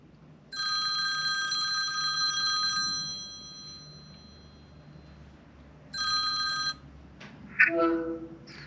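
A telephone rings in two loud, clear bursts, a long ring followed by a shorter one after a pause, with a brief clatter at the end and no talking.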